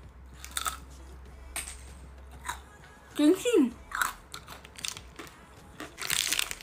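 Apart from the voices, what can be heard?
biting crunchy Korean ice cream with ice shell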